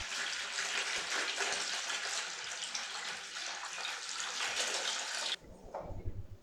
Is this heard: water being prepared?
yes